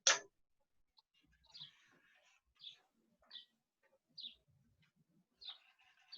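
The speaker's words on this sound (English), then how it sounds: "It's not me, it's someone else, someone else's bird." A pet bird chirps faintly in the background, giving about six short, evenly spaced calls in an otherwise quiet room.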